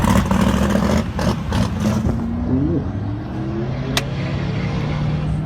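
The engine of a 1969 Dodge Charger General Lee muscle car revs loud and close with a rough, throaty rumble, then settles to a steady idle.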